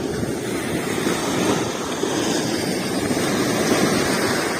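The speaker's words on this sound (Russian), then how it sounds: "ветер шумит прям." Strong wind roars by the sea in Turkey in November, buffeting the microphone in a continuous low rumble, with surf washing underneath and no voices.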